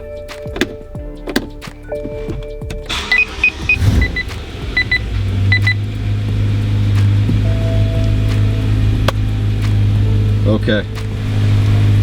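A BMW E90 starts in a garage: a few clicks and thunks, a starter crank, then the engine catches and settles into a steady, loud idle hum; someone speaks briefly at the start.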